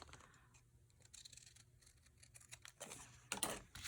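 Scissors snipping paper inside an altered book for a junk journal, a scattering of soft crisp cuts that grow louder and denser toward the end, close up with no talk.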